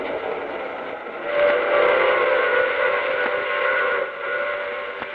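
A steam train rumbles steadily while a loud, sustained whistle blows over it, swelling then easing, with faint clanks of the cars.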